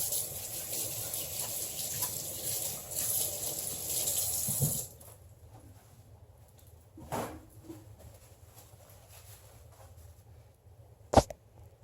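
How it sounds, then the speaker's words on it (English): Sticky hands are rinsed under a running kitchen tap, a steady hiss of water for several seconds that cuts off, followed by quiet handling and a sharp knock near the end. "My hands are sticky. I need to rinse those off."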